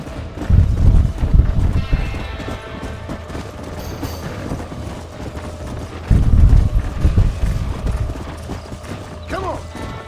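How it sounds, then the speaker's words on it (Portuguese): A horse gallops in the Red Dead Redemption video game, with two loud bursts of rapid hoofbeats separated by quieter clattering, mechanical game sounds and a brief whinny near the end. "o cavalo é tão rápido"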